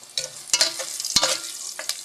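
Papaya sautéing in a pan, with a soft sizzle under sharp stirring clicks and scrapes of a utensil against the pan, a few distinct taps in quick succession.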